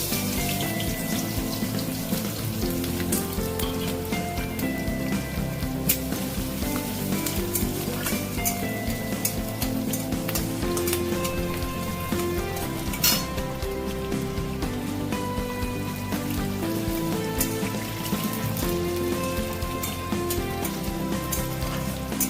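Crushed garlic with a dried red chilli and green chillies frying in hot oil, a dense, steady sizzle that carries on evenly without a pause and with no voices.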